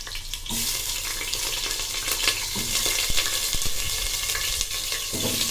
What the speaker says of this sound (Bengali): তো তেলটা গরম হয়ে গেছে, তো আমি আলুগুলো দিয়ে দিই।